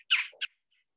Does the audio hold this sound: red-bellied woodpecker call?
yes